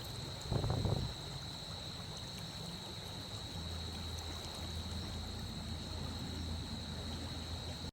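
A stream flows beside a resort in the hills near Chiang Dao, a steady close wash of water with a faint high whine of insects, and a short low rumble near the start.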